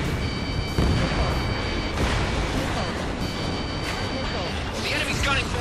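Heavy booms and continuous rumbling missile fire fill an Ace Combat 7: Skies Unknown dogfight, with sustained loud explosions and a whooshing launch near the end, under steady game radio voices.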